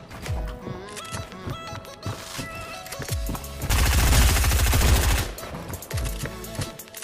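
Shotgun blasts in a video game match, several sharp booming shots spaced irregularly with a dense burst of rapid fire in the middle, loud over game music and effects.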